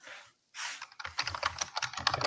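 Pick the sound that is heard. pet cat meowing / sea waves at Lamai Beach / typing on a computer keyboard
typing on a computer keyboard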